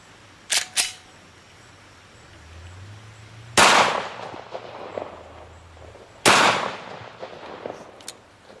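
A pistol fires RIP and hollow point rounds during ammunition testing: two quick shots early, then two louder sharp reports a few seconds apart, each ringing briefly with echo outdoors.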